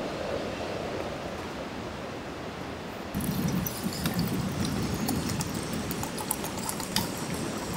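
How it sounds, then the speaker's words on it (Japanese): Ocean surf breaking on the shore at a seaside campsite, a steady broadband wash that swells louder and rougher partway through and keeps rolling continuously with no voices. "波の音でかいってやっぱ すごいな"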